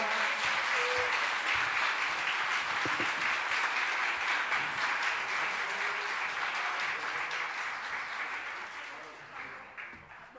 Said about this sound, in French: un petit peu d'applaudissements pour Isabelle et Marie également